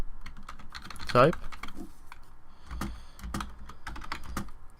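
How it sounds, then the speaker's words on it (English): Someone types on a computer keyboard while writing game code, a run of close, uneven key clicks. A person speaks briefly over the typing. "Okay, so I want to type"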